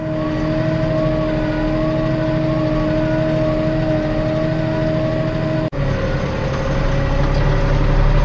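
Forklift driving with trash racks loaded on its forks, a steady loud engine drone with a tonal hum, one sharp clunk partway through, then the engine continues evenly.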